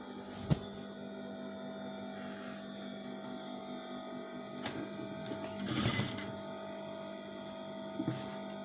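A sewing machine runs a topstitch on a skirt with a steady motor whir and a continuous rapid needle rhythm, punctuated by a few clicks and bumps, close up with no talk.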